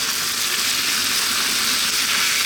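Cubed skinless, boneless chicken breast fries in a pan over lively heat, giving a dense, even sizzle and crackle that carries on steadily, close and loud, with no talking.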